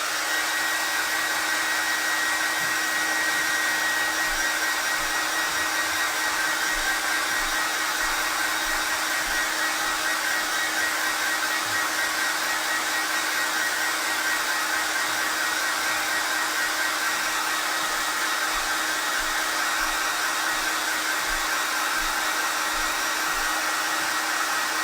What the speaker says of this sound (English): So let's grab our blow dryer again.